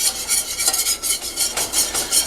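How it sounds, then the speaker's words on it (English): A whisk stirs a flour and butter roux in a pan for bacon mac and cheese, making rhythmic scraping swishes with a soft sizzle underneath, close and steady with no talking. "we're going to get our whisk going"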